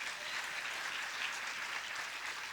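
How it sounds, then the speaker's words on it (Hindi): Applause from an audience at a Hindu Shri Ram Katha religious discourse, a steady wash of many hands clapping, soft and somewhat distant, with no voices over it. "तालियों में बड़ा आप कंजूसी करते हैं।"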